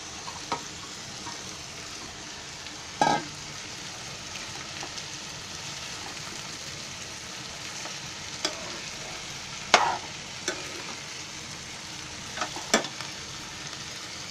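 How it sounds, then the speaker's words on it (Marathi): Sprouted field beans (vaal) fry quietly in a pan for a vegetable dish with drumsticks, a soft steady sizzle under a few sharp clinks of a spoon stirring, close up and without talk. "हे आता वाल टाकते."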